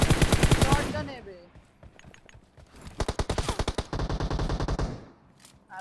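Rapid shotgun and automatic gunfire from a multiplayer shooter game, loud bursts of repeated shots in two clusters, with a short voice at the start and quieter gaps between volleys.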